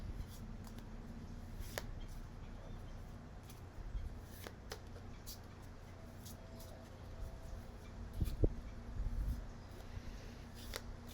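Tarot cards being shuffled by hand, a soft, close riffling and rustling that comes in short bursts over quiet room tone.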